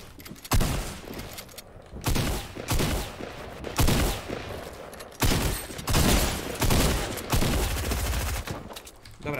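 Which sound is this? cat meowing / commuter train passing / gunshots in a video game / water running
gunshots in a video game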